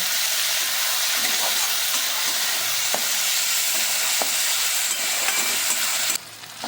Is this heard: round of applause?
no